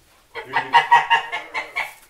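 A goose honks several times in a row, loud nasal calls close by with no other sounds around.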